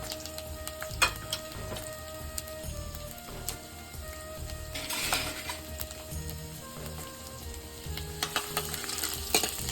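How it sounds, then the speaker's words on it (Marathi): Finely chopped ginger frying in oil for soya chilli manchurian, a close crackling sizzle broken by repeated scraping stirs and light clinks of a utensil against the pan, with no voices. "आल्याचे बारीक बारीक तुकडे कापून घेतलेले ना। हे छान फ्राय करून घ्यायचे तेलामध्ये।"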